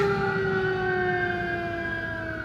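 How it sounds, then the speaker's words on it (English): A loud siren wail holds steady, with slowly sliding tones and a low engine rumble underneath, like a fire truck passing close by. "Fire truck."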